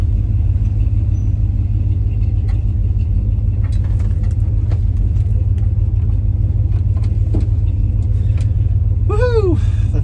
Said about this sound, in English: The thrills of owning an old pickup truck.